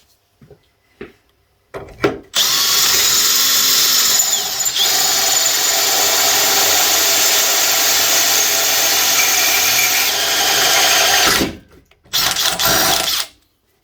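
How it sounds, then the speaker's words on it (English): A power drill runs steadily and loudly for about nine seconds as it bores through material, preceded and followed by a few short clicks and a brief burst. "Right, another hole to drill."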